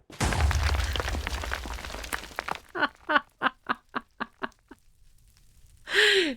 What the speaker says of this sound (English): If you do put a MV or a higher tier voltage into a machine, it's going to explode.